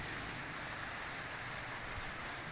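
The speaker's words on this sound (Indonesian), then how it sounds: "hujan turun lagi" Steady rain falls along a street in Banding Agung, South OKU, Indonesia, a continuous broadband hiss that holds at even loudness throughout with no voices.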